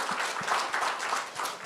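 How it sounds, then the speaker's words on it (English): A seminar audience claps for the panelists in a short, moderately loud burst of applause made of scattered individual claps. "Please join me in giving a round of applause to our panelists for this afternoon"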